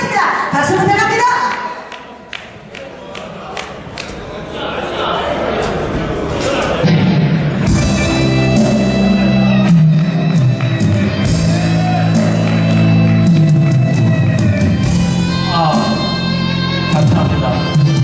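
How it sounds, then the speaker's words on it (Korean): An audience at a high school class's 30th-anniversary graduation reunion claps and cheers, with shouts and whoops over a crowd din that swells into steady applause while voices call out. "박수 부탁합니다."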